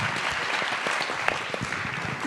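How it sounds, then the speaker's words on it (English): An audience applauds for a speaker at a panel event on plastics pollution, a dense steady clapping that lasts through the whole short stretch with no voices on top. "Let's have a round of applause for Andrew."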